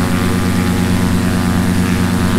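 A Cessna 172 light aircraft climbs under power, its propeller engine droning steadily, loud and close, in a tonal hum that holds through without speech.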